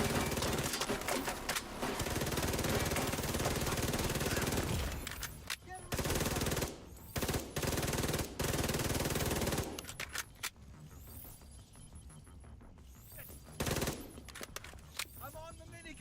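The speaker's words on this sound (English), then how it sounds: "I'm on the minigun." A minigun fires in The Division 2 game in long sustained rattling bursts, loud and near, then breaks into shorter stuttering volleys with quieter pauses and some talk.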